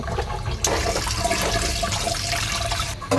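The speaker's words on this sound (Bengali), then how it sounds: "এখন আর সুন্দর করে পানি দিয়ে পরিষ্কার করে ধুয়ে নিব" Boiled noodles are rinsed under water, a loud, steady rush of running and splashing water that stays close and continuous with a brief break near the end.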